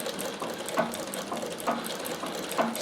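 Singer sewing machine fitted with a zig zag attachment runs steadily at low level, a soft mechanical whir with faint regular clicks and ticks, no voices.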